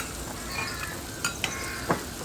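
A mango spice mixture sizzles and fries gently over low heat in a pan, with a soft continuous crackle broken by a few sharp scrapes and clinks of a spoon stirring against the metal.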